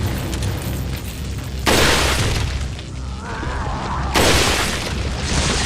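In Resident Evil 4 HD, a shot barrel explodes with a loud booming blast and a crackling rumble, followed a few seconds later by a second heavy burst over dense, continuous game noise.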